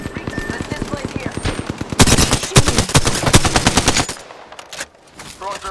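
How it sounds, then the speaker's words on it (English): Rapid automatic gunfire in the video game Apex Legends rattles loudly and fast for about four seconds, with sharp individual shots, then gives way to quieter scattered sounds. "Shot fired. And they're hitting me."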